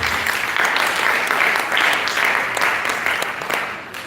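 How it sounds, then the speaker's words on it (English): An audience claps in a steady, dense round of applause that holds for about four seconds at a conference event, close and loud with no talking over it. "I think she deserves a round of applause for that."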